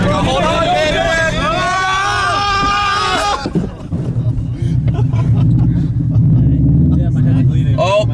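Low-budget Subaru WRX rally car drifting with passengers aboard, its engine droning loud and close with a rough, shifting roar, while voices shout and talk over it inside the cabin.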